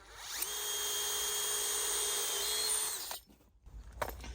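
A power drill bores a bit into wood, a sustained steady whine for about three seconds that cuts off, followed by a brief rattle and some handling noise close by.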